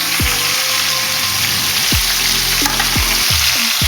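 Liver and onions simmer in a hot pan with a steady, close sizzle and crackle, scattered pops and low bubbling pulses rising through it across the whole stretch.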